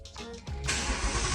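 A 2019 Ford Mustang engine cranking briefly, then catching and settling into a steady loud roar, heard close up.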